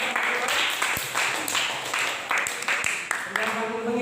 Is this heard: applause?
yes